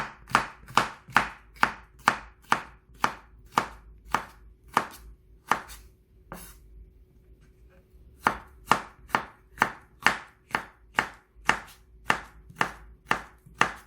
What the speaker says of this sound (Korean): 파프리카도 채 썰어줍니다.